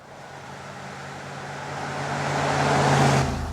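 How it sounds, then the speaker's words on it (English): Ford F-150 pickup truck accelerating, its engine drone rising steadily in pitch and loudness over a few seconds before easing off, heard close with no voices. "Flip the accelerator on the F-150 and you realise what this beast is all about."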